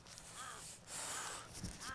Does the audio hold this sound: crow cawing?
yes